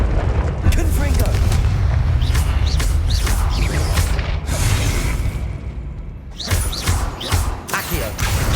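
The fire-blasting spell Confringo goes off in a Hogwarts video game, a burst of booming explosions and crackling impacts layered over continuous rumble, with a brief lull before further sharp hits.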